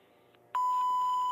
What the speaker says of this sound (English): At the tone, 0 hours, 44 minutes. Coordinated Universal Time.